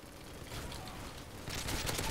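Gunfire in Call of Duty Modern Warfare 3 comes as a dense, rapid rattle of shots that grows louder midway, heard alone with no talking.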